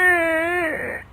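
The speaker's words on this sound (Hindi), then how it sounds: "तभी उसकी दादी सास को रोने की आवाज आती है" A woman in a kitchen, sitting on the floor covered in spilled flour, lets out one close, sustained wailing cry that wavers, then breaks and trails off into a quieter sob. No one speaks.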